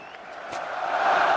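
A cricket crowd at The Oval during an England versus Pakistan Test match swells into rising roaring and cheering, a broad distant wash that grows louder toward the end.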